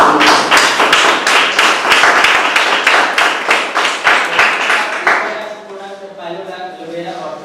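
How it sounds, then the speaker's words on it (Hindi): A smaller audience at a product presentation claps in a strong unison rhythm, sharp regular claps that stop after about five seconds, followed by a quieter stretch with a voice speaking. "मैं चाहता हूँ इसके लिए जबरदस्त तालियां।"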